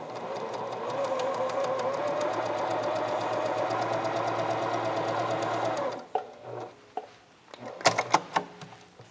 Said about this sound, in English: so I'm going to go sew them up at the machine